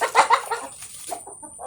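Farm chickens cluck in a quick burst of close, loud calls, trailing off into softer clucks.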